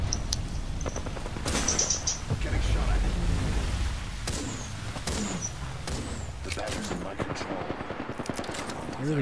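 Bursts of rapid gunfire from the video game Apex Legends crack out in scattered volleys, some single shots and some fast automatic strings, mixed with game effects and a player's voice.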